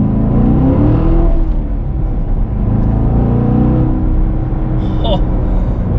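A Corvette C7 Grand Sport drives with a steady low engine rumble and whir throughout, with a brief higher chirp late on; a voice may murmur underneath.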